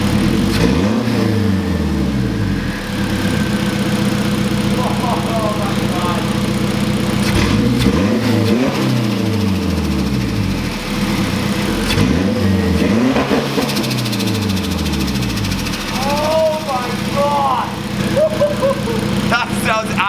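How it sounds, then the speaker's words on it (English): A turbocharged 8th generation Honda Civic engine is revved repeatedly, each rise in pitch sweeping up and falling back in a regular cycle, loud and close, with people talking over it. "let's give this thing some revs. I want to see what this turbo sounds like"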